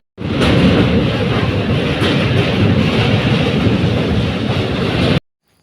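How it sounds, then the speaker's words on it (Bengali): A passenger train moving off, a loud, steady rumble of running wheels and carriage noise that fills the whole stretch without a break, then cuts off abruptly near the end. "তারপর ছেড়ে দিল ট্রেন"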